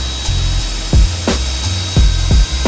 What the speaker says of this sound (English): We're going to be wet sanding it.